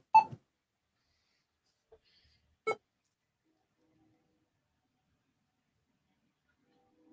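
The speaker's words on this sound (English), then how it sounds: "Turn the key beep off right away." Radio keypad beeping as keys are pressed on a ham radio, two short sharp beeps a few seconds apart and a tiny faint tick between them, close by in an otherwise quiet room.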